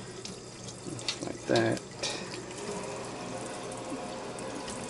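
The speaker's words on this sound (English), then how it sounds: "I go ahead and just rinse it off a little bit" Running water from a kitchen tap rinses freshly cut speckled trout fillets, a steady hiss of flow with a brief louder splash midway as the fish passes under the stream, while someone speaks briefly.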